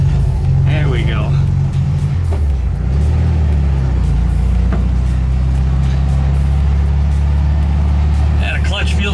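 A VW Thing with a stock shifter is driven, its air-cooled engine droning low and steady up close while someone talks over it in bursts.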